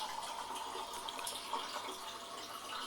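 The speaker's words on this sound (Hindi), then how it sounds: "थोड़ा सा पानी भी शामिल किया है" Water poured into a cooking pot of shalgam gosht (turnip and mutton curry) with yogurt, onions and tomatoes, a steady faint trickling and splashing pour lasting a few seconds without talk.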